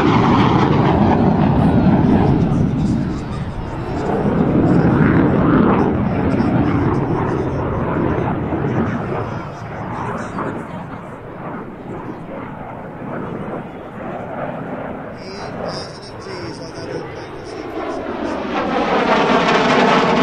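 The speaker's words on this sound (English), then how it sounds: "Once again, at a high rate of speed from the left, Randy Ball and the MiG-17" A MiG-17PF jet fighter roars past at high speed during an airport community air show, a loud sustained engine rush swelling, easing, then rising again over about twenty seconds, with an announcer's voice mixed in.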